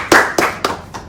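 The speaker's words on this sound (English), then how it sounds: "Please clap for the person." Four loud, separate hand claps spaced about a third of a second apart, given as a call for applause during a live political broadcast.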